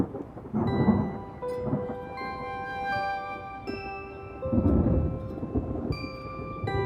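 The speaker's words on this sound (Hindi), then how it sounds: "मैं तुम्हें बारिश से बचाऊंगा।" Low, rolling rumbles of thunder swell and fade twice during a rainstorm, with a soft wash of rain beneath and sustained musical tones layered over the storm.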